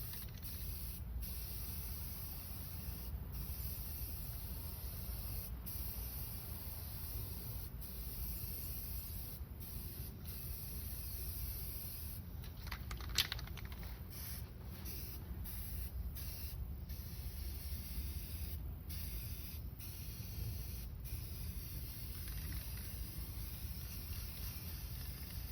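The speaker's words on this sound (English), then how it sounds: "I'm just going to spray right over it." Spray paint hisses steadily from an aerosol can onto a rusty Char Griller grill being restored, a continuous close, even spray that runs almost without break for the whole stretch.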